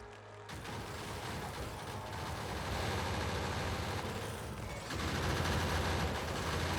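Automated gun turrets in the game Factorio fire on biters in a dense, continuous rattle of rapid gunfire that holds steady and grows slightly louder toward the end, with no talking over it.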